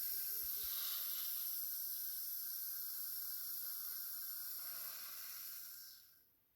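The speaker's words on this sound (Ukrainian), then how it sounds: "Розпилення газового балону шип 1Б." A Ship 1B gas pepper spray canister discharging in one continuous loud hiss for about six seconds before tapering off, heard alone.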